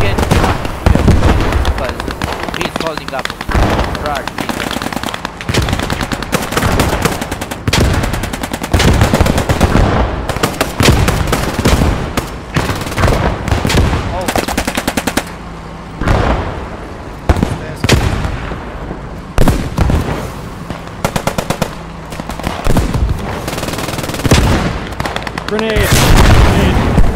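Dense video game gunfire and explosions in a small-town firefight, rapid bursts of automatic shots and heavy blasts almost nonstop, loud and close, with players talking over the action.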